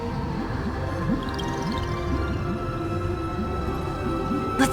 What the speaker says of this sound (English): Listen, I heard Electra's voice. She's calling to us.